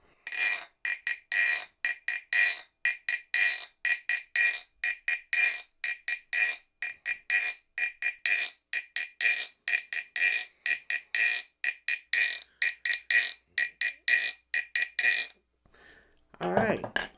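A long run of bright, ringing metallic strikes from a metal wand tapping an object, repeated at a quick steady rhythm, close and fairly loud, as picked up by a microphone.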